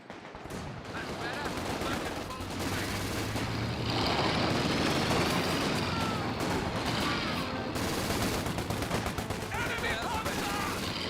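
Gunfire in a Company of Heroes 2 battle with Volks Grenadiers under fire: dense, continuous bursts of rifle and machine-gun shots mixed with rumbling vehicles, loud and sustained, with a voice speaking over the fighting.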